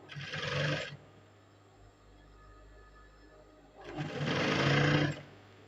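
A sewing machine stitches a trouser seam with a quarter-inch allowance in two bursts of fast, steady whirring and rattling, each about a second long, close to the microphone and separated by a quiet pause.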